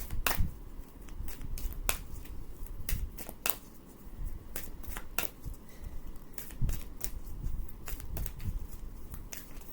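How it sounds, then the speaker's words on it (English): Large oversized tarot-style cards are shuffled and drawn from a deck, giving a string of sharp, close slapping clicks and flicks at an irregular rhythm over a quiet background, with no talking. "These cards are really hard to draw because they're so big."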